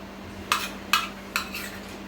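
Chicken pieces being mixed with salt and ginger-garlic paste in a metal bowl: three sharp clinks of a utensil against the bowl, spaced evenly, close and clear over a low steady hum.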